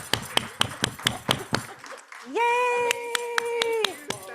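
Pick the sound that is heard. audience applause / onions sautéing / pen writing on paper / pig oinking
audience applause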